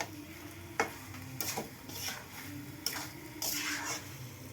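Duck meat being sautéed and stirred in a pan for a curry, with a low sizzle under scattered scraping clicks of a spatula and a few sharper knocks, fairly quiet overall with no speech.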